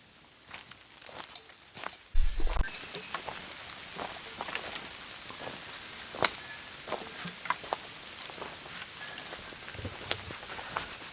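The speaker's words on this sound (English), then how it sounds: "So it just started raining lightly." Light rain starts falling under the tree canopy of an African rainforest, scattered drops ticking and pattering faintly on leaves, with occasional sharper nearby taps and a soft steady hiss.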